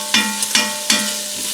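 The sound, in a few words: bacon frying and being stirred in a cast enamel pot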